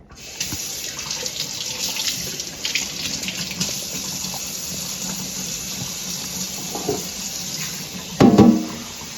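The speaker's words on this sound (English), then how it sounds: "Now we're gonna put water in, and I'm gonna just fill it up." Tap water runs into a cooking pot for broth, a steady hissing stream that holds at an even level, with a brief louder splash near the end and no talking.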